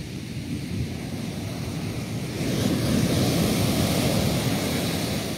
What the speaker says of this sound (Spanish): Simplemente impresionante el oleaje.